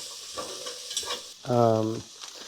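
Onions fry in a pan with cumin seeds for chicken curry, giving a close, hissing sizzle with soft stirring and a short tonal squeal in the middle.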